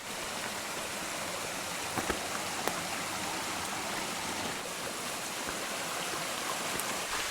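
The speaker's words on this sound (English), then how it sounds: "Well, it is still raining. It's raining quite hard right now." Steady, dense rain falls hard in a forest in the Great Smoky Mountains, hissing without pause, a broad even wash of sound with a few faint drips and no voices.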